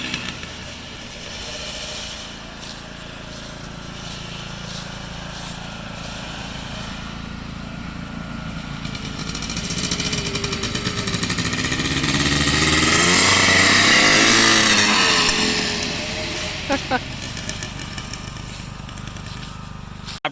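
A Yamaha IT 490 motorcycle engine, running for the first time in three years, idles roughly outdoors, then revs up into a louder swelling roar before dropping back, with some faint voices around it.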